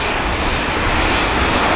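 Airliner engines roar at Manchester Airport near the runway, a loud, dense, steady rush filling the short stretch with no voices.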